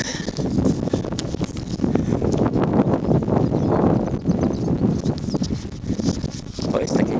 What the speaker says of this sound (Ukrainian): А поки що дме вітер.